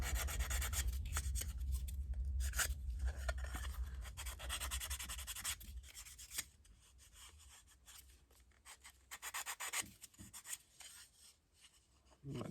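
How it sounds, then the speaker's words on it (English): A 1:1 scale Tori Factory German PzKpfw III/IV tank track part is trimmed with a rasping, filing action. Dense scraping strokes run steadily at close range, then thin out into sparser, quieter passes. "Do a little bit of trimming here real quick."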